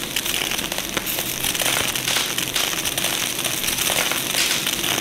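Dense crackling and popping from a space station on fire in the Space Station Alpha video game, loud, continuous, rough and busy throughout.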